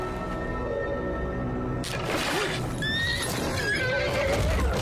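A horse neighs loudly over a busy mix of scene sound. A shrill whinny rises and falls several times, close and prominent, with a dense background beneath it.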